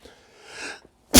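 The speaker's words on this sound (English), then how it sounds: "probably sneezed right in the mic." A single loud, sharp sneeze bursts out close to the mic at the end, after a stretch of faint breathy rustling and a short silence.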